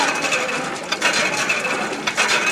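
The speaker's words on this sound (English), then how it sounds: "So you can see the pump." A Bush hand water pump in Epworth clanks and squeaks with a rhythmic mechanical ratcheting as it is worked, loud and close, with repeated metallic strokes and no talking.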